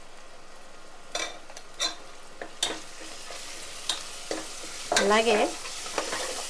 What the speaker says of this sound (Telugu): ఈ ఉల్లిపాయ ముక్కలు వేగాలి కదా, వేగిన తర్వాత మళ్ళీ చూపిస్తాను మీకు